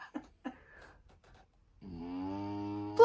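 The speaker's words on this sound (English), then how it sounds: "And Lily's snoring." A dog snoring beside a wood-burning stove in an inglenook fireplace, a steady low rumbling drone that builds up midway and carries on, preceded by a couple of faint soft noises.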